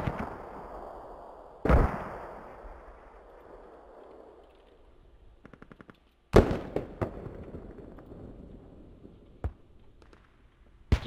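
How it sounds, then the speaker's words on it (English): Mortar rounds impact in a tactical shooter game: several sharp, loud blasts, each trailing off into a rumbling decay, with a quick rattling burst between them and one more distant thump near the end. "Just sort of having a look at those mortar dropping really in the middle of nowhere"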